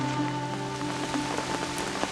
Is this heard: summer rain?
yes